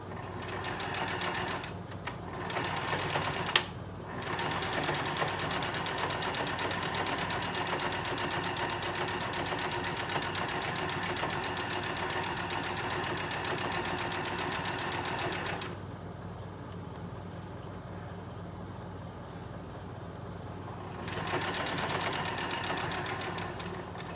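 A sewing machine runs a 3-length stitch through flannel for a pair of pants, a steady close mechanical whir that goes on almost without a break, with one short pause near the start and a brief easing off toward the end.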